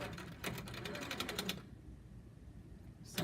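A sewing machine stitching in quick close bursts during ruler work on a table setup, running steadily for about a second and a half, then falling to quiet room noise before starting again briefly at the end.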